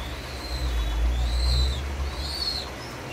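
Pigeons coo softly in a loft housing fancy breeds such as Lahori and Mundian, with a few low, drawn-out calls rising over a steady hum.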